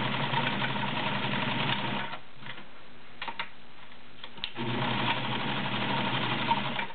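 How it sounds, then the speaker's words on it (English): A Kenmore model 1318 sewing machine stitches through six layers of denim with a size 16 needle, a steady rapid mechanical whir that stops briefly midway, leaving a few faint clicks, then resumes just as strongly. "Go back around to a regular stitch, and we'll do some heavy duty stuff. This is 6 layers of denim."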